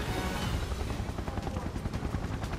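Loud, steady helicopter rotor thumping from the video game Final Fantasy 7 Remake fills the clip with a dense, rumbling roar and rapid chopping pulses throughout.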